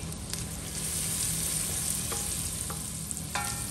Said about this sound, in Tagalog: Lutuin lang natin kunti yung sibuyas.